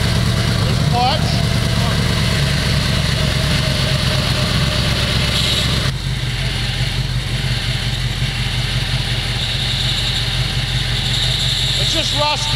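A rusty replica Lamborghini with a clutch runs its engine at a close, loud, steady idle that drones without a break for the whole stretch, while people talk over it.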